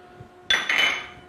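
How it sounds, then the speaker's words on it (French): A sudden metallic scrape and clatter of a whisk mashing a potato against a saucepan, brief and close, after a quiet moment. "je prends un fouet et je viens tout simplement écraser ma pomme de terre délicatement"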